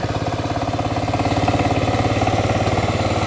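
A small tractor engine chugs steadily nearby in a field during spring sowing, a loud, rhythmic low putter that holds an even pace throughout.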